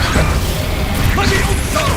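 A Confringo blasting spell cast in Hogwarts Legacy bursts out as a loud, close whooshing crash with mechanical clatter, and a voice is heard over the effect.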